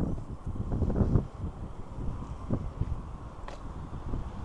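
Gusty outdoor wind buffets the microphone in uneven rumbling bursts, with rustling and faint movement noises throughout and no speech.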